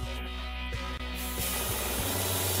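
A mini sandblaster gun blasts a hard surface, a steady close hiss of air and grit that grows broader and rougher midway, with faint rhythmic clicks underneath and no talk.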